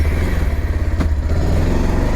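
A Bajaj Pulsar 220 motorcycle with a low-pickup sensor fault idles close by, its engine thumping in a loud, steady, rapid pulse with a brief clatter partway through.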